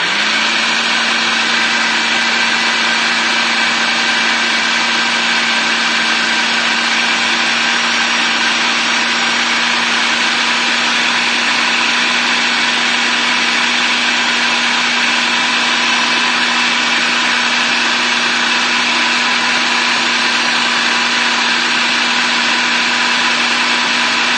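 Countertop blender whirring steadily while mixing a vegan cheesecake filling, a loud continuous motor drone with an even hum that holds unchanged throughout, no voices.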